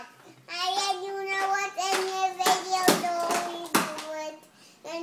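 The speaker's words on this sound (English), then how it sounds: "Clap your hand, clap," Sharp hand claps ring out several times amid a child singing "If You're Happy and You Know It," the claps landing in quick bursts between the sung notes.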